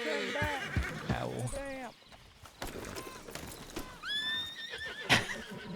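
A horse on a trail whinnies sharply, with hooves clip-clopping and tack rattling close by, and a voice or two underneath at times.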